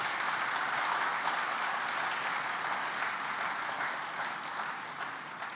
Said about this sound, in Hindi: एक ही हक है कि हम उनको तालियां दें